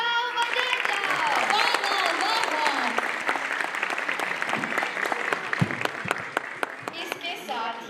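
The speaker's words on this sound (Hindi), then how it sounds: "खुल के तालियां बजाई जाओ बजाई जाओ" Audience at a children's poetry mushaira claps steadily and enthusiastically, a dense continuous applause that stays strong throughout, with some individual sharp claps standing out near the end.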